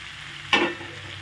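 Vetki fish pieces dropped into hot oil in a pan, giving a sudden loud sizzle burst that quickly settles into a softer, fading fry.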